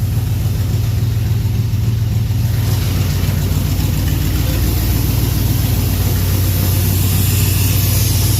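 A heavy truck engine with an aftermarket cam idles steadily at close range, a loud, continuous low rumble with no talking.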